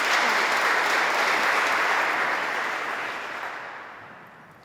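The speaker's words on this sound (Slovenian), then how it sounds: "Pa en aplavz za našo domovino še na koncu" Audience at a Slovenian ceremonial academy marking the 25th anniversary of the republic applauds the homeland, a dense, even roar of clapping from a large hall that gradually dies away toward the end.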